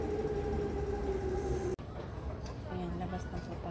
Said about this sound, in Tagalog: Nandito na po ang train.